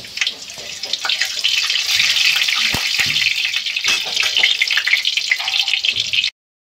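White cumin seeds sizzling in hot ghee, a loud, steady hiss that holds for about six seconds, then cuts off abruptly.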